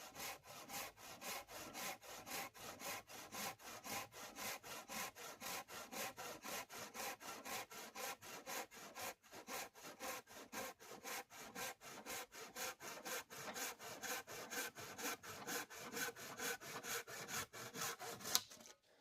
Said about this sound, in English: You can simply buck saws right at base camp, get the rounds, and quarter them up.